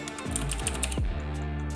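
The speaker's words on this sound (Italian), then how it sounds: "questo va giù a un certo punto con il click" Cherry MX switches click on a Xiaomi MK01B mechanical keyboard as keys are pressed, a steady run of close, crisp clacks with a few louder bottoming-out thuds, with no talking.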